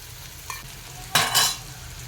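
Previously fried onions stirred into a chicken curry in a pan, with one soft scrape followed by two louder, close stirring strokes over a quiet sizzling background.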